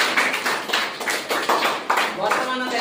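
Hands clap in a steady rhythmic series of sharp, fairly loud claps, about three or four per second, with a voice speaking or chanting along underneath.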